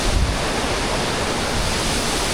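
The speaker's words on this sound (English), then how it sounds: "now this is what I call a waterfall." Broad, steady rush of a high waterfall about 10 to 20 meters tall in the Scottish Highlands, heard up close and loud, filling the whole moment with continuous roaring water and no voices.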